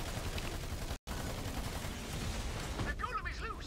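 Gunfire aimed at a golem in the video game Battleborn: dense, steady shooting and blasts with a brief dropout near the start, mixed with game voices toward the end.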